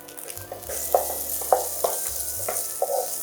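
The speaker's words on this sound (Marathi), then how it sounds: "फिर डालेंगे थोड़ा सा कांदा" Onion fries in a pan for a soya bean rice dish, with a soft continuous sizzle and a spoon scraping and stirring in a steady rhythm of short strokes.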